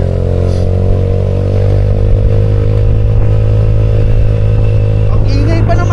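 A motorcycle with a loud aftermarket muffler idles and rumbles steadily and close, on a mountain road, while someone talks over the engine noise.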